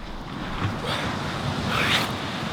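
Cold ocean surf rolls onto a private beach as a continuous broad rush of breaking waves, fairly loud and close, mixed with gusty wind buffeting the microphone, with no talk.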